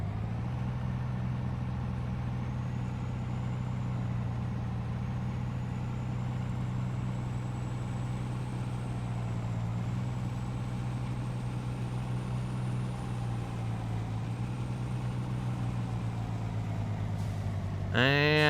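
A tractor engine in Farming Simulator 19 drones steadily and loudly for the whole stretch, a low constant hum with faint whine above, with a brief sharper sound at the very end.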